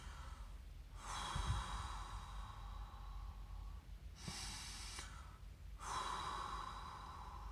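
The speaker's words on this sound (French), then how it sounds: "Puis ensuite, tu reprends une autre respiration." Slow, deep meditative breaths, each long airy inhale or exhale lasting a few seconds and separated by quiet pauses, close and soft with no talking.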